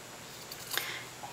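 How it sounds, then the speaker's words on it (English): Scissors make a single quick snip through a small baby sock, brief and close, then fall quiet. "take the scissors and then just cut up the side"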